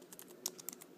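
Quiet typing on a Bluetooth keyboard in an iPad Mini case, a handful of soft, light key clicks tapped at an uneven pace, close by with no voices.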